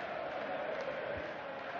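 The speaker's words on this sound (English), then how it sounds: "the crowd now chanting the name of Mensur Suljovic" A darts crowd at the 2018 European Darts Grand Prix chants a player's name, a faint, steady, distant roar of massed voices with no distinct claps.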